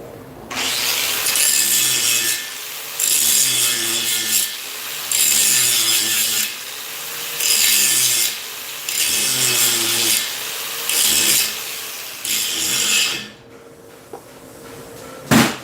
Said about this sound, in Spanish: Ahora vamos a pulir un poco.